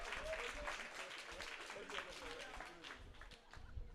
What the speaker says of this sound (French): On les applaudit très fort une dernière fois